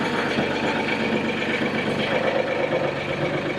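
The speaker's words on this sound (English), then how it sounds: "This is my little Mahindra Max 26 XLT hydrostatic tractor." A Mahindra Max 26 XLT hydrostatic compact tractor with a front loader idles nearby, a steady loud engine drone with even mechanical hum throughout and no talking.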